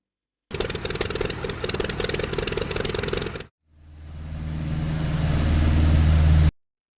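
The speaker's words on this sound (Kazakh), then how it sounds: "Биплан." A biplane's piston engine hums in a steady, close drone that swells and grows louder, coming after a brief stretch of another propeller roar.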